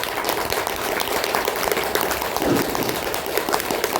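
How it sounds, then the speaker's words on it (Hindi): Dense applause from a crowd at a monthly meeting, steady clapping throughout with no talking. "ताली बजाते हैं"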